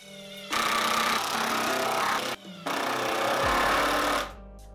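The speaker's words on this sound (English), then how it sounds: "I could fire in all the rest of the screws" Power driver firing screws into a wooden sled base, in two loud, sustained, buzzing runs separated by a brief pause, each ending as the motor winds down.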